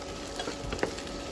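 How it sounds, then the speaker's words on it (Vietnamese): Green banana pieces frying in hot oil in a pan, a steady, soft sizzle running throughout with a few faint scraping stirs, close and without talk. "nó chiên cho nó hơi vàng vàng vậy đó."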